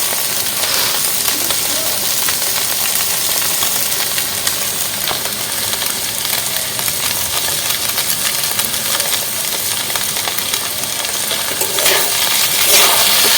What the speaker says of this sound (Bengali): নেড়ে চেড়ে আমি নামিয়ে নিচ্ছি।